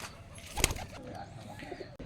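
A black Rajshahi Giribaz pigeon gives a brief, soft coo close by, with faint outdoor background around it and no talking.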